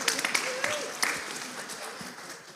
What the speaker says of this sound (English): So a big round of applause for Joe, who filled in while India was making her way here.